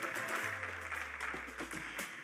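Applause from a seminar audience at an aviation law session, a soft, steady patter of many hands clapping at a distance for a couple of seconds.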